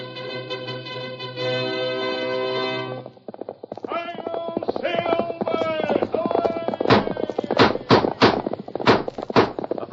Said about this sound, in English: A fiery horse with the speed of light, a cloud of dust, and a hearty Hi-Yo Silver, the Lone Ranger.